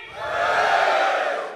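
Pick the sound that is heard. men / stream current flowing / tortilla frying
men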